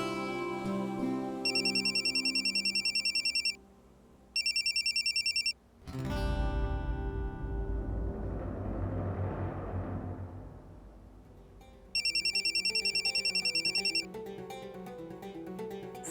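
Telephone ringing in three repeated bursts of bright electronic ringtone, loud and close, separated by a stretch of dramatic music and a whooshing sound effect, with no talk.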